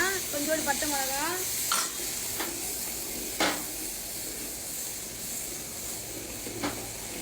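Cinnamon, chilli and spices sizzle and crackle steadily in hot oil as a tempering for sambar, with a few scraping stirs, a continuous frying hiss close by.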